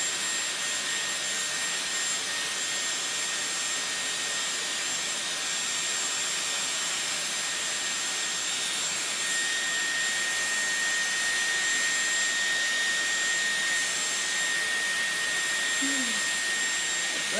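A Dyson Airwrap hair styler blows hot air in a steady, loud whooshing whine with a thin high tone, continuous and close throughout without talking.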